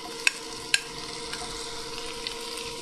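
Tomatoes hitting a hot pan with spices, giving a steady close sizzle and fry with a few sharp clinks of a stirring spoon against the pan, no talking.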